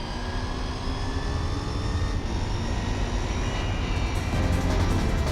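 A car engine held at full throttle in the Gran Turismo 4 video game, a loud steady roar with a high whine that rises slightly near the end.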